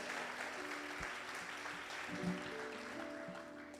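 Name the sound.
church congregation applause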